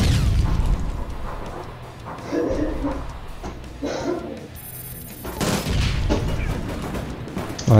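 Gunfire in an online shooter game with sniper rifles, heard as repeated loud bursts and booms scattered through the clip while people talk over it.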